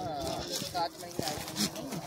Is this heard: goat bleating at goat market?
yes